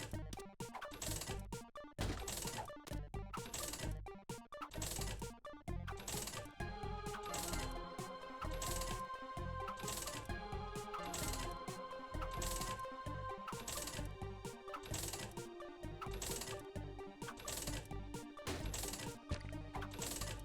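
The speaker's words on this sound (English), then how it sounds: "We could play the fortune telling machine for HP here, I guess." Coins pay into a fortune telling machine in The Binding of Isaac, a rapid regular run of small metallic clinks repeating over twenty seconds, with a soft game melody rising beneath.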